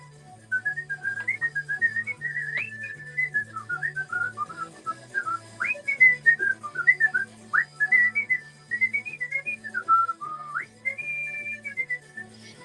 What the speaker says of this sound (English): I'd be whistling right now.